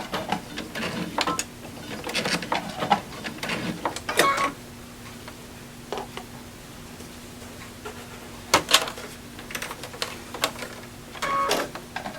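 Sewing machine back-stitching a quilted Christmas tree snack pad, a close mechanical whir in short runs with clicks and brief stops between, no voices.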